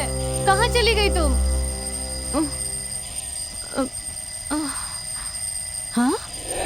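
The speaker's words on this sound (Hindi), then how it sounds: "अलार्म बज रहा है" An alarm clock rings in a Hindi horror film scene, with a bright warbling ring at the start followed by several shorter chirps, while someone speaks over a steady background hum.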